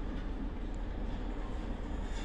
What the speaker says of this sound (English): Here we have a class 47 taking the excursion to Alsterby,